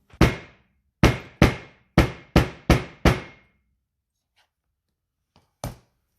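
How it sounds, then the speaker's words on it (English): A hammer strikes full-grain leather in a quick series of six sharp blows, then pauses before one final strike; each hit rings briefly in a quiet room. "We'll hit this with the hammer and see how it looks."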